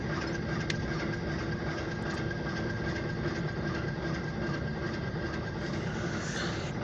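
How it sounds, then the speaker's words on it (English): A short ethanol tanker train on the OC&T line rumbles past nearby, a steady loud wash of wheel and rail noise with a faint sustained tone, with no talk. "we got a big ethanol train"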